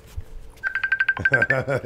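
An iPad rings with a repeated electronic ringtone, a steady tone with rhythmic pulses, while several people talk and laugh loudly over it.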